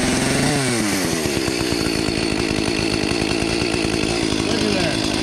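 An Echo chainsaw engine starts and runs loud and close, its rough two-stroke idle rising then settling into a steady buzzing drone throughout.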